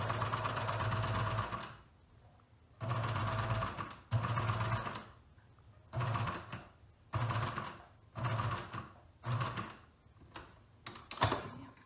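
A sewing machine stitches a garment seam in short bursts, roughly seven runs of rapid mechanical chatter separated by pauses, moderately loud and close with no talking.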